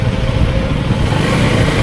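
A large group of motorcycles sets off on a mountain ride toward Nathula in Sikkim, with a dense, steady engine roar filling the air throughout.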